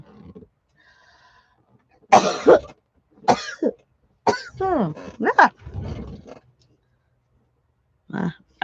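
A person coughs in a quiet room, giving several separate harsh, throaty bursts spread across the span with short silences between, close to the mic.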